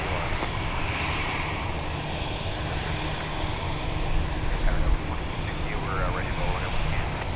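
A Boeing 737 arriving from Boise at Minneapolis–Saint Paul airport makes a steady, broad jet engine roar, moderately distant and continuous, rising slightly in the middle, with faint radio chatter and voices underneath.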